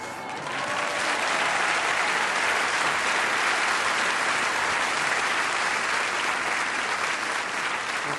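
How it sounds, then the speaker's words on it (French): A theatre audience applauds a stand-up comedy show at the Olympia in France. The clapping starts softly, swells within the first second and then holds as a broad, even wash of hands that carries on well past eight seconds. "C'est gentil d'applaudir"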